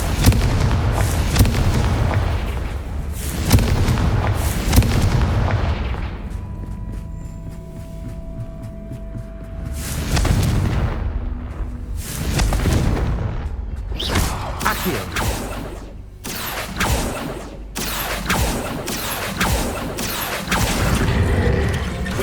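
Repeated booming blasts from the Confringo fire spell in the Hogwarts Legacy game, loud impacts with crackling debris and rumbling tails, spaced irregularly across the clip over game effects.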